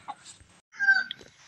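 Gamefowl chickens at a small farm give a brief, faint cluck and a short squawk, heard close but quiet with near silence between the calls.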